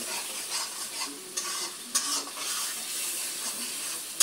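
A mash of boiled jackfruit seeds and dried hilsa stir-fries in a pan, with steady close sizzling broken by scraping stirs and a few sharp clacks of the spatula.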